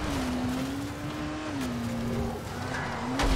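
Buggy driving in the video game Dying Light: The Following, with a steady engine drone and a long tonal tire squeal running continuously, loud and close, ending in a brief louder burst.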